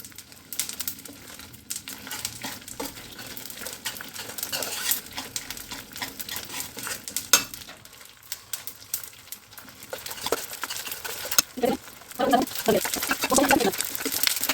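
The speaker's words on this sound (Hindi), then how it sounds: "ये देखिए आप, गोंद हमारा फ्राई हो रहा है" Edible gum puffing as it fries in ghee in a pan, an uneven crackling sizzle with spoon scrapes and stirring, close and moderately loud, with bird calls in the background.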